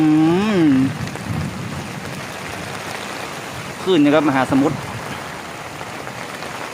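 Steady heavy rain from a storm hisses throughout outdoors, with someone talking loudly over it at the start and again midway.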